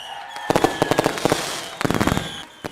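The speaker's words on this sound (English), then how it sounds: "Keep the fireworks going." Fireworks crackle and pop in rapid bursts of sharp bangs, two dense clusters of loud reports separated by a brief lull, with no voices over them.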